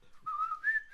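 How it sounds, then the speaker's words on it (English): The Old Spice whistle, a short two-note whistled tune that slides upward and holds, faint and alone. "Old Spice whistle"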